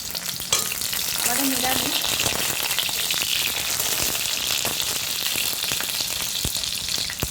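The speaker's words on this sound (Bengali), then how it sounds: "এই দেখো পটলগুলো এখন আমি ছেড়ে দেবো, তারপরে আগে ভালো করে ভেজে নেব।" Pointed gourds (potol) fry in hot oil with a dense, continuous sizzle and crackle, loud and close throughout, broken briefly by a short spoken phrase near the start.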